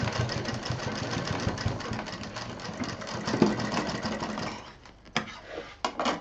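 A sewing machine double-stitches a fabric sling bag, running as a steady, close whir for about five seconds before slowing to a stop with a few sharp clicks.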